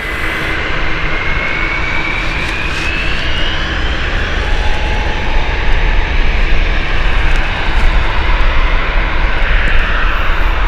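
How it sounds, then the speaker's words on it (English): A British Airways Euroflyer airliner departs Gatwick Airport, its jet engines giving a loud, continuous roar close by that holds steady for about ten seconds with no talk over it. "British Airways Euroflyer here, going off to Rockland"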